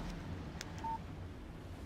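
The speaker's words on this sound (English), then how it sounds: "Text message from Barry." A single short electronic beep from a phone text message alert in the video game Alan Wake, quiet and clean over a faint background hum.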